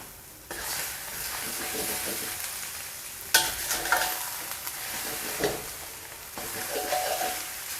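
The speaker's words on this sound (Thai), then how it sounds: "ไข่เซตตัวแล้วให้เราทำการยีไข่นะครับ" Eggs sizzling and frying in a hot pan with pork fat while being scrambled, stirred and scraped, with intermittent sharper clinks of a utensil against the pan.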